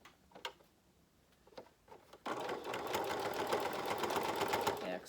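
A sewing machine runs steadily at close range, stitching a fabric face mask with a fast, even whirring after a few quiet handling clicks; a voice talks briefly beneath.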